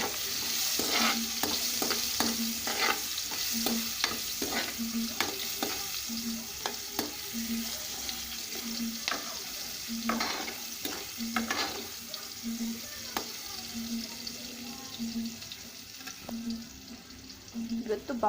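Onions fry with asafoetida for a vegetable kurma, a steady close sizzle broken by repeated scraping stirs of a spoon against the pan, with faint running water nearby.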